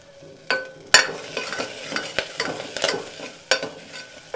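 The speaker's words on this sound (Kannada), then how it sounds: "ಸೊ ಇದಾದಮೇಲೆ ಒಣಮೆಣ್ಸಿನ್ಕಾಯಿ ಆ್ಯಂಡ್ ಕರಿಬೇವು ಹಾಕ್ಕೊಳ್ತಾ ಇದ್ದೀನಿ" Dried red chillies and curry leaves hit hot oil for sprouted-bean sambar, a close crackling sizzle punctuated by sharp spoon clinks and scrapes against the pan.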